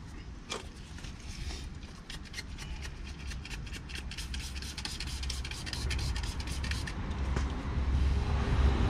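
Rasping, scrubbing strokes as the outer face of a brake disc on a 2018 Peugeot Boxer van is cleaned, a steady run of short rubbing passes at close range with no talk.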